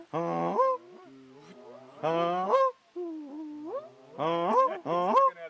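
Loud, close Canada goose-call honks in three bursts, each a quick series of breaking, nasal notes separated by softer, lower clucks.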